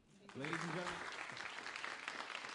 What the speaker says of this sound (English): another round of applause for Mr. Mactar Diop